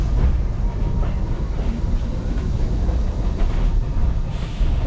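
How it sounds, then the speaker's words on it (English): A train runs along a railway through the rainforest near Kuranda, giving a steady, close rumble with a continuous rolling roar throughout and no distinct breaks. "The railway is taking us through the rainforest"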